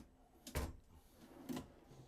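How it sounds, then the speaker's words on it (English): Dovetail-constructed drawers in a 2024 Earthroamer SX camper closing, two firm knocking thuds about a second apart, near and moderately loud in a quiet interior, no speech. "once they get here, they do suck in, which obviously helps out a little bit."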